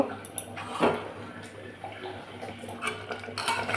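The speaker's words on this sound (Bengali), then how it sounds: "এবার গরম জলটা দিয়ে দেবো" Hot water goes into a pan of braised meat on the stove, a splashy rush of pouring with clinks of pots and utensils, close and moderately loud.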